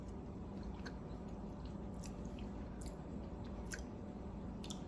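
Someone chews a mouthful of stewed fresh butterbeans while tasting them. The soft, wet chewing comes in close, irregular squishes over a steady low room hum, with no talking.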